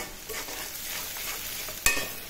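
Chopped onions fry steadily in a pan with salt and turmeric, a constant close sizzle broken near the end by one sharp scrape or clack of the stirring utensil.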